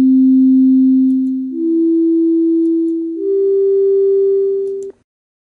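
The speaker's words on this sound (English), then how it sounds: "You can even listen to a function in Sketchpad" A mathematical function played as a tone in Geometer's Sketchpad 5: a pure sine-like tone that steps upward in pitch twice, holding each level about a second and a half, then cuts off abruptly.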